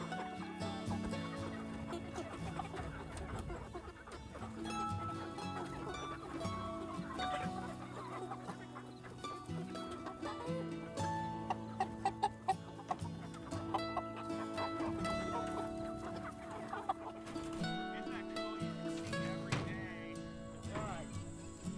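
Pasture-raised chickens in a movable tractor on fresh grass cluck continuously at close range, with a voice talking over the busy flock.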